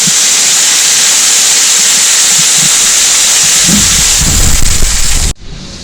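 Fresh-caught perch fry in hot oil in a pan, giving a loud, steady, close hiss that holds evenly and then cuts off abruptly near the end.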